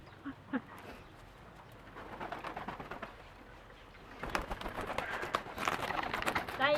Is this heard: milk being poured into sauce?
no